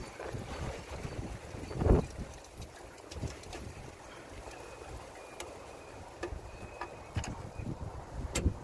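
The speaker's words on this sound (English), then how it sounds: "Sorry about the wind." Steady wind buffeting the microphone outdoors in Southern California with low rumbling gusts throughout, swelling briefly near the start, plus occasional faint knocks.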